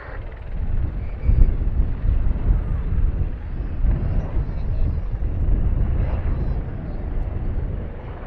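A steady, loud rotor drone of Royal Navy Wildcat helicopters flying overhead in a display at RIAT 2025, constant and broadband throughout with no pauses.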